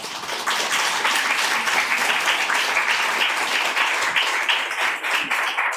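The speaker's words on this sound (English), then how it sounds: "Some more applause for Joanna, please." Audience applause after a poetry reading at a poets' event, a steady dense wash of many hands clapping that holds at full strength throughout without talk.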